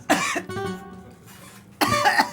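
A couple of harsh, close coughs with a pause between them, the first short and the second a louder burst, as if choking on a drink.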